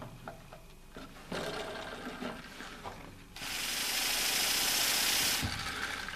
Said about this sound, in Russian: когда сильно сведены или какой-то дисбаланс, то появляется звук, как у настоящего мотора